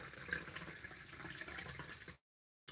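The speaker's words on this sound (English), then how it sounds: "it's 500 mils of ice cold water that needs to go in here" Ice-cold water pours steadily into a plastic jug blender, a continuous splashing, filling stream for about two seconds before cutting off, close and fairly quiet.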